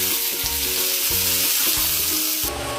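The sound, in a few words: onions frying in mustard oil with cumin seeds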